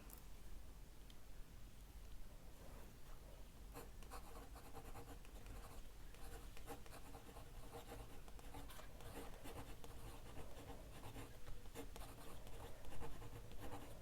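Pen nib writing in Tom Studio Cherry Bomb ink on paper, a steady close scratching with soft strokes and ticks running throughout, no voices.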